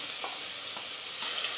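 Sliced onions frying in hot oil for a Bengali-style mustard fish curry, a steady close hiss and sizzle with faint periodic stirring scrapes, no talk.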